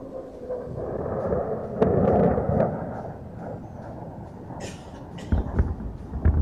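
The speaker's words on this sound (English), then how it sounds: "Steady in a dive. It fires a salvo of 80mm rockets." A salvo of 80mm rockets fired from a diving Indian Air Force aircraft during a firepower demonstration, heard as a distant, sustained rumbling roar with a sharper crack partway through, followed by scattered thuds and crackles outdoors.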